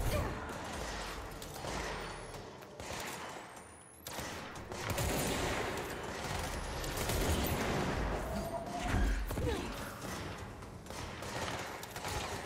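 Gunfire in the action video game Control, a run of heavy weapon shots and crashing impacts with a dense, busy mix throughout, fairly faint overall.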